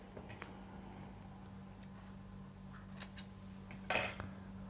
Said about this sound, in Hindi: टेप को आपको काटना है